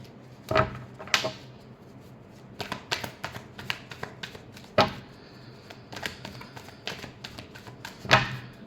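Tarot cards being shuffled during a reading, a series of crisp riffling bursts and snaps spaced irregularly, close and clear with no talking over them.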